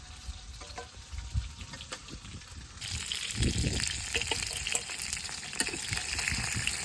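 Pangas fish fry in hot oil in a pan, giving off a close, crackling sizzle that grows louder and denser about halfway through, with occasional stirring clatter and no voices.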